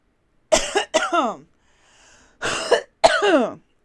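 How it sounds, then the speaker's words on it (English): A person coughs and clears their throat in four rough bursts, two quick ones, a brief pause, then two more, close and loud. "I'm coughing here"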